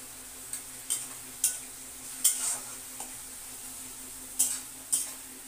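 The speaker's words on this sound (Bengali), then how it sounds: "মশলাটা ভালো করে কষিয়ে নিয়ে" Spice masala is stir-fried in a pan, a faint background sizzle with about seven distinct metallic scrapes and taps of the spatula at irregular intervals, quiet overall and without speech.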